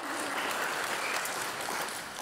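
Audience clapping in a dense, steady burst that holds at a constant level for a couple of seconds, with no talk over it.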